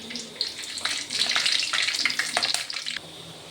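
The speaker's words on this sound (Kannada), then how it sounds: "ಈರುಳ್ಳಿ, ಕರಿಬೇವು ಹಾಕ್ಕೊಂಡು ಚೆನ್ನಾಗಿ ಈರುಳ್ಳಿನ ಫ್ರೈ ಮಾಡಬೇಕು" Curry leaves and onion hit hot oil in a pan and fry for egg rice, a close bright crackling sizzle that swells for a couple of seconds and then fades, with no talking.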